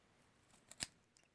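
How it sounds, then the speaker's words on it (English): Small, sharp embroidery scissors snip through yarn while a pom pom is being made: one crisp close cut, with a fainter snip just before and a light click after, in an otherwise quiet room. "So what you do, quite simply, is you cut the yarn,"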